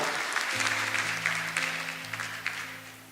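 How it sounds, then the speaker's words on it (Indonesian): A church congregation applauds the praise and worship team, a dense wash of clapping over a lingering sustained keyboard chord that fades slowly. "Boleh kasih tepuk tangan buat tim praise and worship kita."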